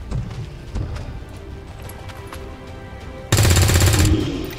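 Automatic gunfire bursts from the XCOM 2 video game, a loud sustained volley erupting near the end after quieter scattered thumps and background game sounds.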